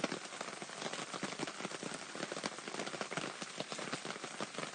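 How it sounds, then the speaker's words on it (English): Rain beats on the fabric top of a pop-up canopy at an outdoor cast-iron cooking site. The patter is dense and steady, a close drumming of countless drops that carries on without a break and without voices. "Yeah, it's raining. Can you guys hear the rain?"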